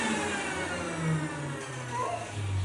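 An electric mixer grinder runs in a kitchen with a steady droning motor whine, shifting slightly in pitch and holding moderately loud for the whole stretch.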